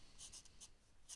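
A dip pen loaded with ink drawing on paper, a few short, faint scratchy strokes spaced irregularly against a quiet background.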